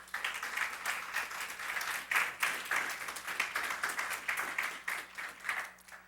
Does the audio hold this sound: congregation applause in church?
yes